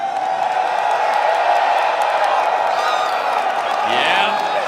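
A large live crowd at the EVO 2026 2XKO grand finals roars and whoops in steady, loud cheering that fills the whole stretch, with a sharper shout rising near the end.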